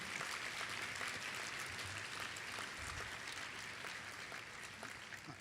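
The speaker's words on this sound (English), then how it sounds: "Can we give them all a round of applause?" A luncheon audience applauding, a steady dense wash of clapping from many hands, faint and distant, with no speech over it.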